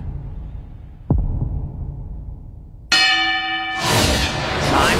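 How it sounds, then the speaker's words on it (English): The opening bell rings to start a featherweight championship boxing match in an anime, a loud, ringing metallic clang followed by a surge of crowd-like roar. A low thud comes before it, and there is no talking. "The opening bell for the featherweight championship match is about to ring!"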